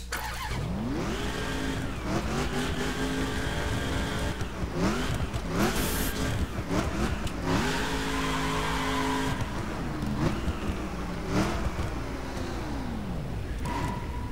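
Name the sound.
1969 Dodge Charger RT Hemi engine revving in The Crew video game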